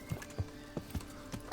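Horse hooves clip-clop at a slow walk in the Kingdom Come: Deliverance video game, five or six distinct low thuds with uneven spacing, fairly close, with no talk.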